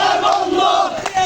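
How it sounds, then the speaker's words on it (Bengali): Protesting farmers march at an onion market in Rajbari, a brief, loud burst of massed shouting voices chanting together at close range. "আজ বুধবার সকাল থেকেই রাজবাড়ীর বিভিন্ন বাজারে দফায় দফায় বিক্ষোভ মিছিল করেছে কৃষকেরা"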